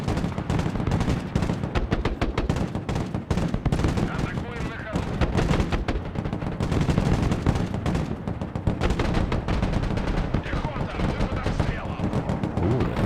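Sustained gunfire in the war strategy game Broken Arrow: rapid machine-gun bursts and heavy shots crackle continuously for the whole stretch, loud and dense, with occasional artillery-like booms mixed in.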